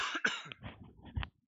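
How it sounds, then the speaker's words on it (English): A single person coughs close to the microphone, a harsh burst followed by a couple of rougher throat-clearing pulses before it cuts to silence. "I have to cough."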